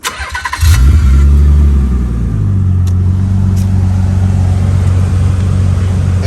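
A 1995 Nissan 300ZX convertible cranks briefly, catches and fires up, then its engine settles into a loud, steady idle close by, with no talk over it.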